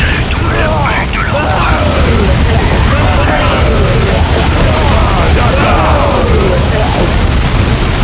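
Battle din from Dawn of War 2 with booming blasts and crackling gunfire, including a grenade explosion, loud and continuous throughout, with a voice talking over the fighting.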